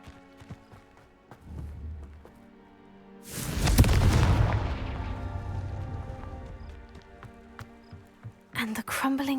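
A Confringo blasting curse goes off in the Hogwarts Legacy video game, one loud booming burst that rolls out and slowly fades over a few seconds. Footsteps and game sounds come before it, and a person talks.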